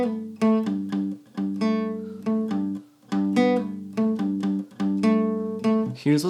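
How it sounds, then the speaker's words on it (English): A guitar plays the intro bass line of a song: a steady run of low, ringing plucked notes in a bouncy rhythm, heard up close and alone. "let's check out how to play that bass line from the intro and from the first part"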